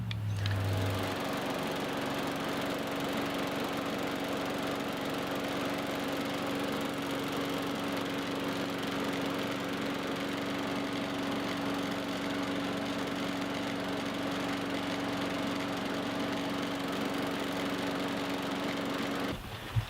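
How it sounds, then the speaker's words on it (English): A Murray lawn mower engine runs steadily at close range, a continuous droning hum with a high buzzing whine that holds even from start to finish, no voices over it. "There is the Murray motor."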